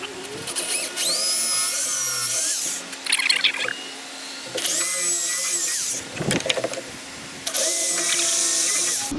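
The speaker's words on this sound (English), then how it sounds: "And I'll get our drill." A power drill whirs in several sustained bursts with pitch rising and falling, driving into wood while building a bread shelf, close and loud, separated by brief handling clatter.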